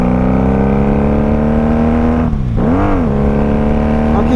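A 1995 Honda Magna VF750C V4 cruiser engine hums steadily and loudly while riding, its pitch dipping briefly as the rider eases off, then climbing back as it pulls again under continuous wind rush.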